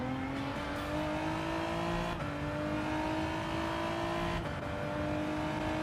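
Several road car engines hum and drone steadily at close range in a racing video game at the Red Bull Ring, with a sustained rising engine tone and a brief shift midway, continuous and without talk.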